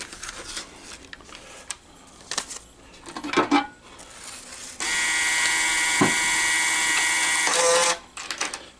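A loud green-stripe American Changer coin hopper, under troubleshooting, dispenses coins: scattered metallic clinks and rattles, then a sustained whirring, jingling run of coins pouring out for about three seconds before trailing clinks, close and loud, with no speech.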